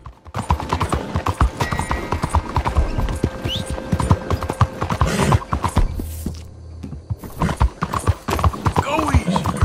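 Rapid clip-clop of a Black Arabian horse's hooves at a steady trot in Red Dead Redemption, close and loud, with a brief whinny partway through and voices talking over it.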